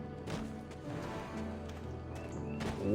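Horse hooves clip-clop at a steady running rhythm in the video game Black Desert Online, close and clear, with a faint game backdrop throughout.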